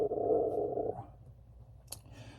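A dog growls low and steady for about a second, close to the microphone, then quiet with faint rustling and a brief sharper sound near the end.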